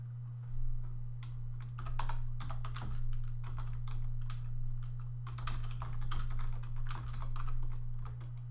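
Steady bursts of keystrokes on a computer keyboard while renaming a Halo: Custom Edition map file, close and crisp, in quick irregular runs with short pauses.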